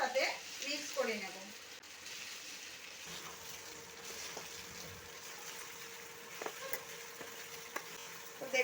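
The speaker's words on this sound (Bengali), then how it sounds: "এবারে কিন্তু আস্তে আস্তে এইভাবে একটু নেড়ে চেড়ে তেলের সাথে মিক্স করে নেব।" Chopped cabbage sizzles softly in hot oil in a pan while it is slowly stirred, with faint scraping and a low, continuous frying hiss. A voice is briefly heard near the start.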